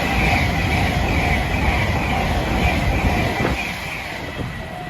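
Pairs of passenger trains, including class 800 units, rumble past close by through Didcot Parkway station with a roaring rush, rhythmic wheel clatter and a faint high squeal, gradually easing off toward the end.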